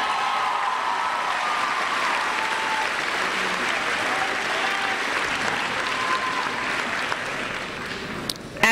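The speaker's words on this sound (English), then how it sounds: "Let's show them our appreciation one more time with a round of applause" A graduation audience applauds steadily in a large hall, dense clapping holding at an even level for the whole stretch, with faint crowd murmur beneath and a couple of sharper knocks near the end.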